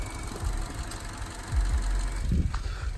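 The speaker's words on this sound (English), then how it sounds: "All right, give it a little rev there." Engine of a 90s Ford F150 pickup truck idling and rising briefly in a short rev, a low rough rumble heard close with a mild vibration.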